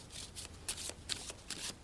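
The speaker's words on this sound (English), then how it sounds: "So we're shuffling" A deck of playing cards is shuffled by hand in a close, crisp flurry of riffling bursts, several quick passes in a row with no talking.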